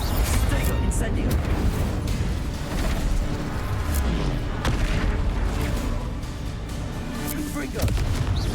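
Repeated blasts of the Incendio fire spell in Hogwarts Legacy, with booming whooshes and crackling bursts layered over a dense, noisy battle background while someone talks throughout.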